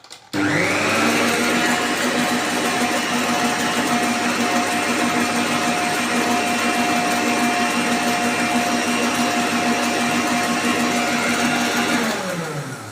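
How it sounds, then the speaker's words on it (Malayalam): An electric beater runs at low speed mixing cake batter made with sunflower oil, a loud continuous motor whir with a steady hum that starts suddenly and carries on unbroken before trailing off at the end. "എന്നിട്ട് ചെറുതായിട്ടൊന്ന് ബീറ്റ് ചെയ്തെടുക്കണം. ലോ സ്പീഡിലിട്ടിട്ട് ഒന്ന് മിക്സ് ചെയ്തെടുക്കണം."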